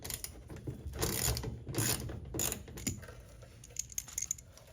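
Screws being backed out of the rear splash guard mount on a 2019-2023 Chevy Silverado give a close run of ratcheting, mechanical clicks in bursts, ending with a few light metallic taps.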